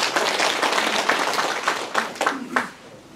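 Brief, moderately quiet applause from a gathered crowd at a county administration briefing in Geumsan, South Korea, with scattered clapping and a few louder claps before it trails off after about three seconds.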